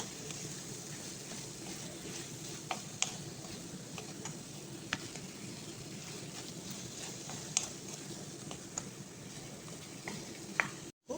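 Sautéed bitter melon with egg being stirred in a pan, a steady soft sizzle with scattered light scraping and tapping strokes, close but quiet, without talk.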